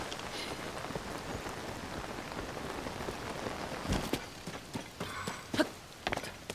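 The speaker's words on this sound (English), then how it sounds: "I love the rain sound effect on the glider." Video game rain patters steadily on a surface, heard while riding a glider, with scattered louder drips and taps near the end.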